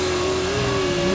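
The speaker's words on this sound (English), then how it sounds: "Yo, Chad's car is loud" Loud sports car engine in GTA 5 holding a steady, droning pitch as it accelerates, close and continuous with no voices over it.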